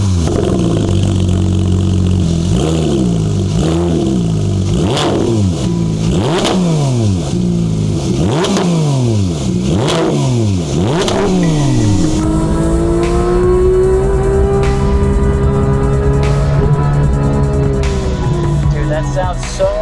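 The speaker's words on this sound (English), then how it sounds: "Can we start her up? Maybe get a couple of revs through that exhaust?" Porsche 911 GT3 RS Weissach with a JCR exhaust revs repeatedly in a garage, about eight sharp loud blips rising and falling in quick succession, then holding a sustained higher-pitched rev, close and dominant.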